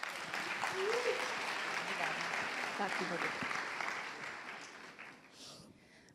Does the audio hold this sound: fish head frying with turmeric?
no